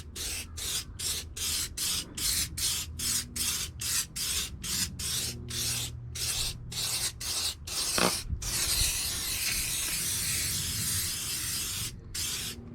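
Tyre shine is sprayed onto a car tyre in repeated short hissing bursts at a steady rhythm, close up, then one long continuous spray hiss near the end.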